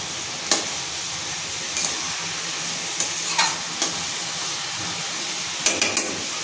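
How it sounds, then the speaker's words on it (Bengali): Bottle gourd with ginger paste and radhuni spice paste is stirred in a frying pan for a vegetarian dish with lentil dumplings, a utensil scraping in short separate strokes over a low steady sizzle. "এটা নেড়ে চেড়ে ভালো করে মিশিয়ে নিয়ে"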